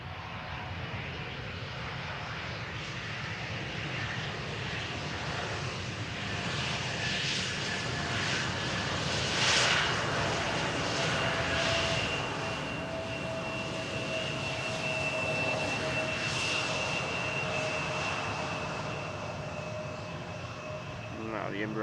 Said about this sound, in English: Now the Embraer vacating the runway at the first exit, making room for the 777 that is on arrival.